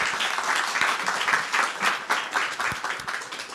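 An audience claps steadily in dense, sustained applause, filling the room without voices standing out.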